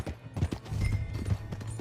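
Horse hooves clip-clopping in the Red Dead Redemption 2 video game, a rapid uneven run of muffled thuds, fairly close, with faint background noise.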